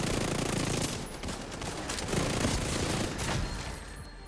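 Sustained automatic gunfire from a weapon in a video game, a dense, continuous rattling burst that fills the whole stretch with steady loudness and no pauses.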